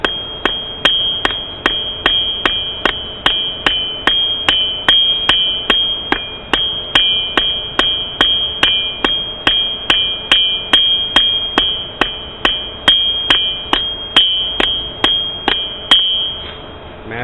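A hammer peen strikes a piece of 3/8 inch high carbon steel stock on an anvil in rapid, even blows, about two per second, each a loud ringing metallic clang close by, with no talking.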